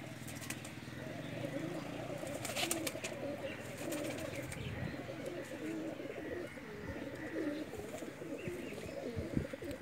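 Pigeons coo softly and steadily in the background, mixed with ambient outdoor noise and a few faint chirps, continuous throughout.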